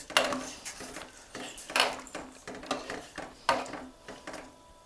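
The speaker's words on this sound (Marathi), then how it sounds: "पाण्याला हलवून घ्यायचंय" A spoon stirs water holding guava leaves, cloves, turmeric and salt in a pot, giving repeated metallic scrapes and clinks against the sides in an uneven rhythm, close and fairly loud.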